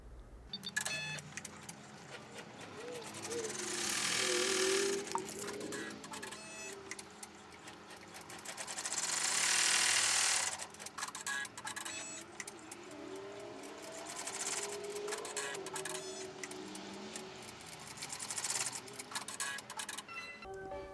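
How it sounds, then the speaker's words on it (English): An embroidery machine stitches out the next step of an in-the-hoop tuck envelope card holder, a steady mechanical whir and rapid needle clatter running throughout, swelling louder in stretches, with no talking. "Back in the machine, and we'll sew out the next step."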